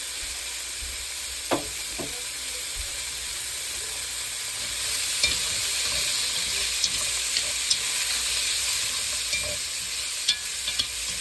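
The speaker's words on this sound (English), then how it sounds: "We're going to do the onions and the green peppers right now." Onions and green peppers sauté in a hot pan with a steady, close sizzle, broken by occasional light clicks and scrapes of stirring.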